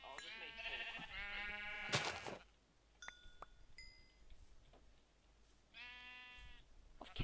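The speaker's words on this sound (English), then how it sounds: "Man, seriously, Saam, there are sheep everywhere I am" Sheep bleat in Minecraft, with several distinct wavering bleats at the start and another near the end, close and fairly clear, separated by short clinks and quiet gaps.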